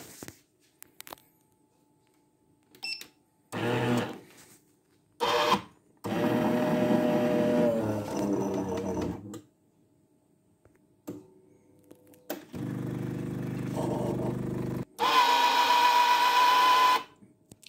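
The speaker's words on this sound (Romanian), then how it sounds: "Astăzi voi încerca să decalcifiez un aparat de cafea de la firma Cibo." Cibo automatic coffee machine on a descaling cycle, short mechanical clicks and whirs followed by longer stretches of pump and grinding-like motor noise separated by pauses, close and moderately loud.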